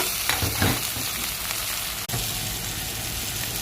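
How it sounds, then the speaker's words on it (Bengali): Onions fry in a pan with turmeric, chili, cumin, garam masala, tomato, ginger and garlic, a steady sizzle close by with a few stirring scrapes and one brief dip, and no one speaking. "এগুলো দিয়ে আবার একটু ভাজবো"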